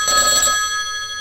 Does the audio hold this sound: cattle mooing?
no